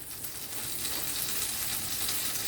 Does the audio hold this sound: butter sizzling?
yes